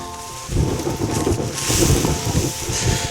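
Wind buffets a 3F UL Gear Taiji 2 tent outdoors, a rough, gusty rumble with fabric flapping and microphone wind noise swelling and fading over a few seconds.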